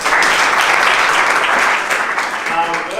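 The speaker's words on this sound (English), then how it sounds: "Give yourselves a round of applause for being here." An audience at a motivational speech applauds in a brief, full burst of clapping that holds steady throughout, with no talking over it.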